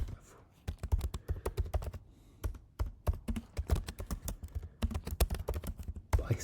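Fast, uneven typing on a computer keyboard, close and clear, clicking in steady bursts with short pauses between runs.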